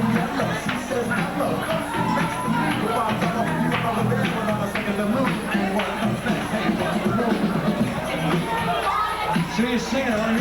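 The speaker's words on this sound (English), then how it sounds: "let's cheer for our tambourine player" A school crowd from a class of '91 senior gathering cheers for a tambourine player: a dense, steady roar of voices, shouts and chatter that stays loud and close for the whole stretch.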